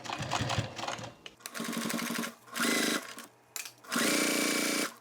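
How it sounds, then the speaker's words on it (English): A sewing machine stitches along the side of a bag strap in several close bursts of rapid mechanical whirring, separated by short pauses. "Okay, so now it's time to sew along the side."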